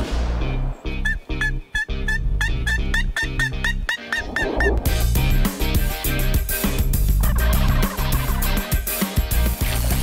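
A wild turkey gobbles during a spring turkey-hunting scouting trip in Outaouais, Quebec, giving a rapid series of rattling gobbles up front before a louder, rough outdoor wash takes over; no one speaks.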